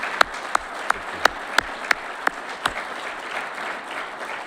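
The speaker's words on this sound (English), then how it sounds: "Let's give them a nice round of applause for all that they do." At an Eagle Scout court of honor, about eight sharp, evenly spaced claps ring out close by, slow and deliberate, then fade into a quiet room.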